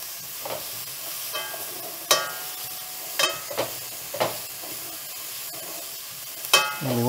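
Spices for a beef short rib ragu are stirred in a hot pan, a soft sizzle broken by several sharp scraping strokes of the spoon, close and without talk.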